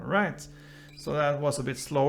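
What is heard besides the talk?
No everyday noise stands out behind the speech.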